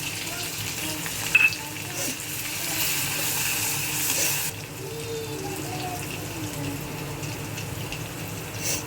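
Curry leaves, garlic and chili-ginger paste hit hot oil in a pan, giving a loud, steady sizzle with a brief crackle burst early on; the hiss then settles into a softer, continuous frying noise.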